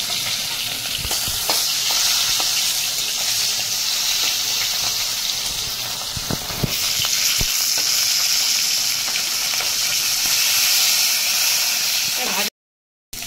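A hilsa fish head frying in oil makes a loud, continuous sizzle and hiss up close, with occasional crackles and pops, before cutting out abruptly near the end.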